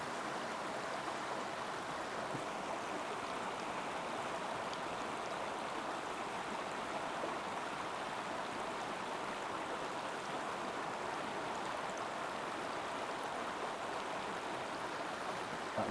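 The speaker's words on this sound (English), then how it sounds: "This is just coming straight from the river." River water pours and rushes steadily without pause, a dense broadband wash heard close by with no voices over it, drawn straight from a river through a portable pump and filter setup.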